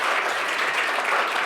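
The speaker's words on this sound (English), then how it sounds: "let's give a round of applause." Audience at a programming talk breaks into dense, steady applause, many hands clapping together evenly throughout the short stretch with no pauses.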